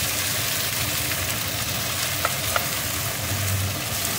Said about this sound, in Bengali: পেঁয়াজটা সেইভাবে লাল করে ভেজে নিয়েছি।